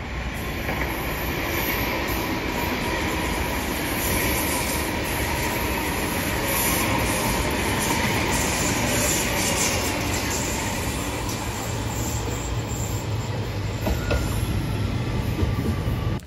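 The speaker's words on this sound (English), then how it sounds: "to watch some trains go by" Amsterdam metro train passing through Rye station on the M50 line, a steady loud rumble of wheels and carriages filling the whole stretch with faint rail squeal and clatter, no voices.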